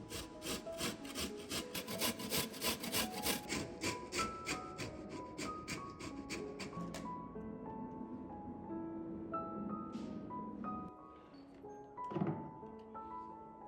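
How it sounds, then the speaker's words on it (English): Cheese being grated by hand for a chicken breast dish, a quick run of rhythmic rasping strokes that dies away to fainter scraping and clinks, close and alone. "I grate about 100 grams of cheese."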